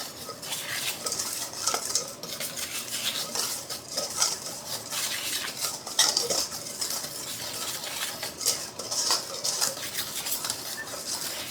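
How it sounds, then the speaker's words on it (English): Flour and salt are whisked together in a bowl for bread dough, a rapid continuous metallic scraping and ticking that surges in bursts, close and fairly loud throughout. "I'm just going to whisk those together."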